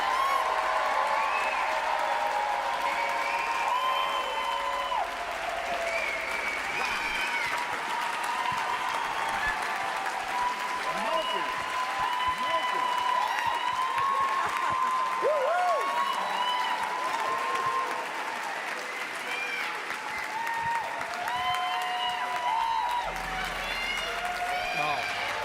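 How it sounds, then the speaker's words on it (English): Sustained applause from an audience for a musician, dense clapping with some cheering that continues throughout under a speaking voice. "A well-deserved round of applause,"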